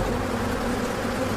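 A swarm of aggressive Africanized bees buzzes loudly and constantly, a dense close-up drone of many wings filling the whole moment without a break or any talking.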